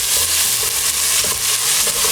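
Two medium chopped onions frying in a pot over a low flame, giving a steady, close hiss of sizzling oil with faint stirring bumps underneath.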